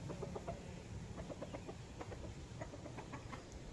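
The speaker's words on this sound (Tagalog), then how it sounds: "Ayun, ibang manok naman yun." Chickens cluck in quick repeated bursts on a farm, close and steady, with no talking over them.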